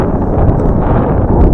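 Strong gusting wind buffets the microphone near red pine trees by a house and hydro lines, a loud continuous low roar with brief rushes and no voices.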